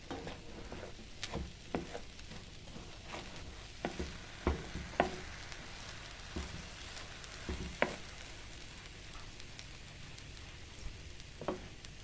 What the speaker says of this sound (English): Combine our frozen carrots and green peas. Stir that well.